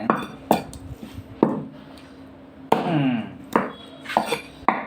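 A knife chops through chicken on a hard board, several sharp thuds and clacks at irregular intervals, close and moderately loud over a faint background.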